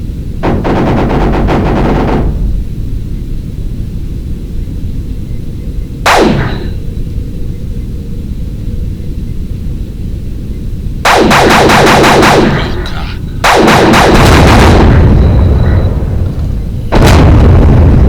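Sci-fi ship combat in the BioRebellion MMORPG brings loud bursts of rapid weapons fire and explosions, several long blasts separated by quieter stretches of low engine hum and a single sharp shot midway.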